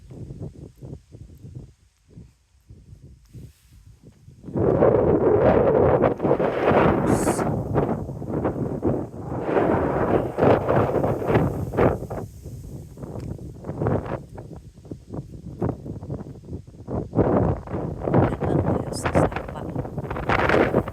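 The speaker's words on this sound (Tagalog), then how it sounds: "Ang lakas ng hangin" Strong wind gusts roar and buffet against the microphone outdoors behind large houses, surging loud after a quieter opening and rumbling in uneven waves with brief rustling.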